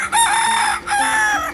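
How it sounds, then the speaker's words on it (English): A rooster crows loudly and close by, two drawn-out cock-a-doodle-doo calls in quick succession with a short gap between them, with no other sounds. "Roosters are known for their loud morning call."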